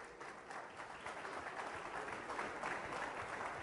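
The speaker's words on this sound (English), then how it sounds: "I think that deserves a round of applause" An audience claps at the unveiling of the 2013 Force India VJM06 Formula One car, a moderately distant, steady round of applause that swells slightly and continues alone.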